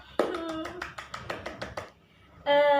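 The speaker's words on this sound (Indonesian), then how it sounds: "Beri tepuk tangan kepada semuanya" A class of third-grade pupils claps, about a dozen quick, sharp hand claps in an uneven burst. A voice follows after a short pause.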